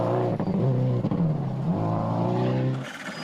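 A rally car engine roars and revs at speed on a gravel road, pitch rising and falling as it drives hard, loud and close throughout with no talking.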